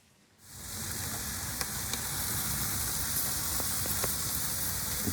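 Beef flank steak sizzles on a charcoal BBQ grill, a sudden steady hiss of searing fat and juices with a few small pops and crackles, close and continuous.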